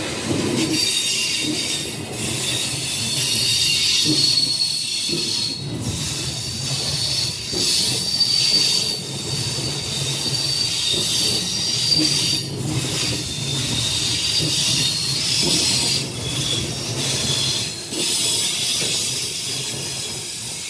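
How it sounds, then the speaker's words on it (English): An Airtrain service to Brisbane airport rolls out of the station with a long metallic wheel squeal, rumbling and hissing steadily, loud and close. "And off it goes through running to the airport on the air train expensive service."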